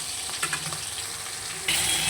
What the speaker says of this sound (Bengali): বাকি মাছগুলো সব ভেজে নেব